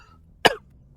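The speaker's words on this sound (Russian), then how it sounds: "Кашель долбаный" A single sharp, close cough from one person, brief and alone against a quiet background, during a Mass Effect Legendary Edition gaming session.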